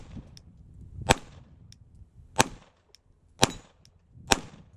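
Four sharp pistol shots from a Glock 17 Gen 4 fired at a steel plate rack on a range, spaced about a second apart, crisp and punchy with short tails, no voices.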